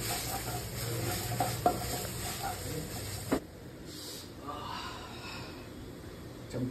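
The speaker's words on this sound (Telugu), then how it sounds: "కలుపుతున్నా జింజర్ గార్లిక్ పేస్ట్ చేసి." Ginger garlic paste stirred in a frying pan, a soft scraping and faint sizzle running close and steady, louder in the first half then quieter, with brief breathy sounds over it.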